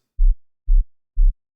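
Three short, deep sub-bass notes pulse evenly about half a second apart, clean and isolated with silence between them.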